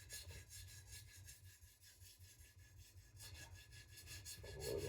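A Victorinox Chinese cleaver scrapes back and forth across a new sharpening stone in steady, rhythmic gritty strokes, faint and close, with no voices.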